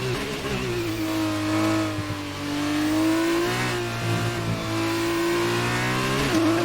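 F2 race car lapping Silverstone in the F1 2019 video game, its high engine note droning steadily with gear shifts and rising and falling revs, loud and close throughout without voices.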